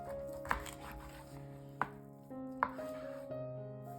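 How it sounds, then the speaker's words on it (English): A kitchen knife chops through a salmon on a cutting board, making three sharp, distinct cuts spaced out over a few seconds against a quiet background with faint music. "I now cut the head off and then cut it into halves"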